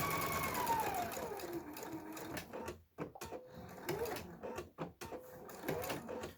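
A sewing machine stitches a small cork minimalist wallet in short, rhythmic whirring bursts with brief stops between runs, close and moderately loud.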